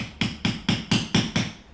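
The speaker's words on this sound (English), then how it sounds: "and just hammer it in." A hammer drives a rod or 16 mm tube into a doubled balloon base plate with six evenly spaced, sharp blows, close and fairly loud, with nothing else heard between them.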